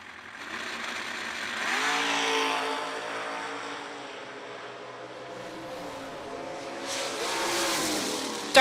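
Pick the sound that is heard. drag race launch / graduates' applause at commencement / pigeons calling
drag race launch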